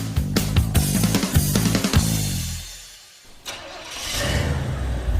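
A 1968 Pontiac Firebird barn find cranks over with a rapid, rhythmic starter chugging for two seconds, falls briefly quiet, then catches and settles into a loud, rough idle close by.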